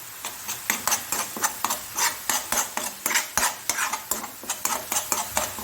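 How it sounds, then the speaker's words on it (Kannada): Masala frying in oil for a Mangalore-style mackerel fry, stirred continuously with a spoon clattering rhythmically against the pan over a bright, constant sizzle, close and loud with no talking. "ಹೀಗೆ ಇದನ್ನು ಹೀಗೆ ಎಣ್ಣೆಯಲ್ಲಿ ಹೀಗೆ ತಿರುಗಿಸ್ಕೊಳ್ತಾ ಇರಬೇಕು. ಎಣ್ಣೆಯಲ್ಲಿ ಅದು ಒಳ್ಳೆ ಫ್ರೈ ಆಗಬೇಕು ಈ ಮಸಾಲೆ."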